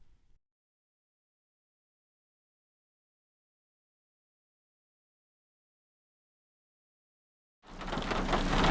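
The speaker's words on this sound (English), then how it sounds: "It would help if it finally stops raining." Heavy rain from a Dupree, South Dakota supercell thunderstorm bursts in loudly near the end, a dense roaring wash after a long stretch of near silence.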